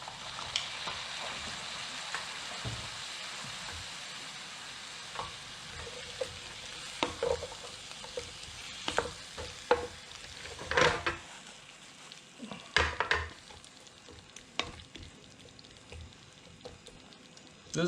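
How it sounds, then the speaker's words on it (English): Pasta sizzles in a pan as a touch of vegetable broth is added, a steady close frying hiss with intermittent clinks and stirring scrapes. "I'm going to add just a touch of vegetable broth."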